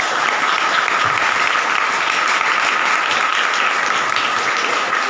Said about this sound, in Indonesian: Sebelumnya minta tepuk tangannya terlebih dahulu.